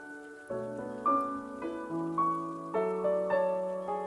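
Piano melody layered with extra sound textures built from the piano itself, sustained notes stacking and ringing together in a slow, full phrase of distinct attacks, moderately loud with no voices.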